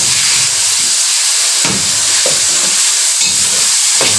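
Chopped tomatoes fry in a hot pan for pakbet, a loud steady sizzle and hiss with occasional stirring scrapes of a utensil, close up and with no talk.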